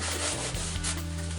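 A towel rubbing an oily part of a Tiger Cub or Tiger Cat riding mower during an oil change: close, steady scrubbing with a few shifting strokes, no talking.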